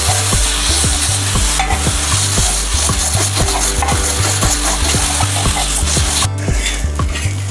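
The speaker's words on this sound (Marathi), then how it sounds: "चालू गॅसमध्येच मी असं मॅश करत आहे" Fried green chillies are mashed with a glass in a pan over a lit gas flame, giving a steady rhythmic pounding and scraping beneath a continuous loud sizzle, with no voices.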